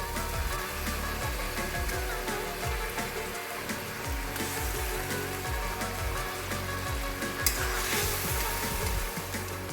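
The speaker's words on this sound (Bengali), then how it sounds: "এবার মাছগুলো আমি দিয়ে দিচ্ছি" Katla fish pieces go into a simmering spiced gravy in a pan, giving a loud, continuous close-up sizzle and bubbling with light stirring throughout and no voices.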